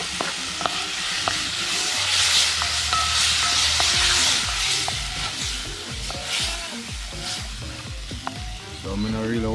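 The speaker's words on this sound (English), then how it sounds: "Saute them up a little" Shrimp sautéing in a pan outdoors for jerk shrimp pasta, a steady sizzle with repeated stirring scrapes and clicks throughout.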